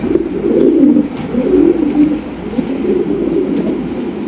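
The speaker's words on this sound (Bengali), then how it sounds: "এখানে রয়েছে একজোড়া খুবই সুন্দরী একজোড়া কিং কবুতর" A pair of king pigeons coos loud and close in repeated low rolling phrases that swell and fade over a few seconds, with no talking.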